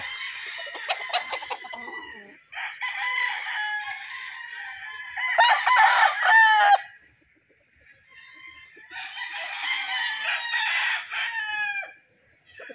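Several roosters crow at a gamefarm, loud, overlapping calls in three long bursts with short gaps between them, nearby and outdoors.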